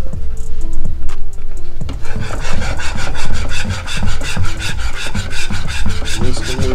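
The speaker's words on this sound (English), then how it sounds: "Whisking." Garlic parmesan cheddar grits being whisked in a pot, a steady loud rhythmic scraping and rasping of the whisk against the pan that continues without pause and with no talk.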